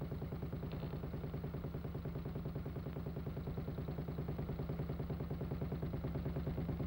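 A 1942 British Army motorcycle engine running properly at idle, a steady rapid clattering beat, even and continuous, close and fairly quiet throughout.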